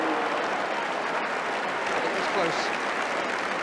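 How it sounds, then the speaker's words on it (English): A football stadium crowd applauds for player Stuart Robson during an Arsenal versus Liverpool match, a steady broad wash of clapping and crowd noise beneath a commentator talking. "The applause is for Stuart Robson."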